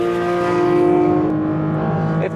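Porsche 911 GT3 in its hardcore trim, its naturally aspirated engine revving hard on track at Valencia, a loud sustained high-pitched wail heard from close by that holds steady, dips slightly, then cuts off.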